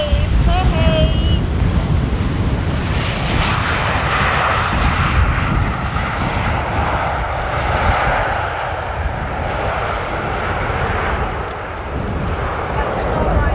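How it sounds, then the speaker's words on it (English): A KLM airliner arriving from Venice lands on the Polderbaan at Amsterdam Schiphol, its engines a loud, continuous broadband roar mixed with gusting wind noise across the microphone. "KLM landing in from Venice to Amsterdam"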